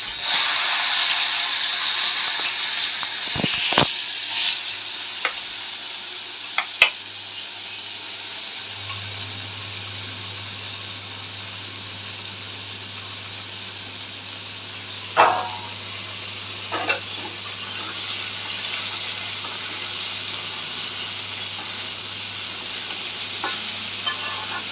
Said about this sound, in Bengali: সামান্য একটু কালো জিরে ফোড়ন দেবো। দিয়ে পুরো উচ্ছেটা ছেড়ে দেবেন।